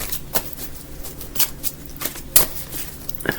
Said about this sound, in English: I'm gonna shuffle them again.